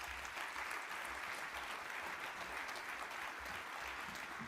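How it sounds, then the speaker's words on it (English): An audience at the 2026 Association of the United States Army Global Force Symposium gives the panelists a steady round of applause, with continuous even clapping that sounds faint and distant. "Please give the panelists a great round of applause."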